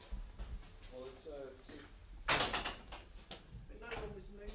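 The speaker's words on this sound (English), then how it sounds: "It sounded like a door." A door sounds in a haunted bar location, a short sharp bang with a brief rattling tail, heard amid quiet murmured talk from several people.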